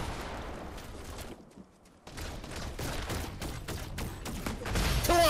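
A shooter game's gunfire rattles in rapid bursts and volleys, briefly pausing before resuming with dense repeated shots at moderate loudness.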